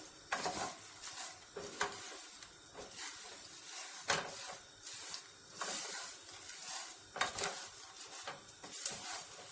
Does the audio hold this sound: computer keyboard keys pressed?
no